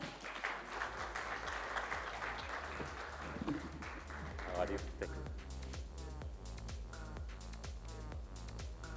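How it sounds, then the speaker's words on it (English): An audience at a rubber industry conference claps steadily, a warm wash of many hands that thins into scattered individual claps toward the end. "Can we have a big round of applause?"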